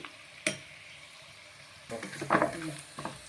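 Onions and spices frying in a pan for chicken biryani: a faint clink, then a quiet burst of sizzling and stirring, soft and close with no talk.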